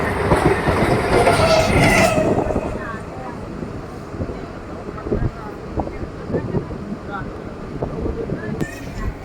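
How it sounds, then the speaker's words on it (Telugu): The Circar Express, a passenger train hauled by a WAP-4 electric locomotive, runs on rails after leaving Tanuku station, giving a loud, continuous rumble and wheel clatter with wind buffeting. It is heaviest at the start, then settles to a steady roll. "మన ట్రైన్ వచ్చేసి తణుకు రైల్వే స్టేషన్ నుండి అయితే బయలుదేరిపోయింది"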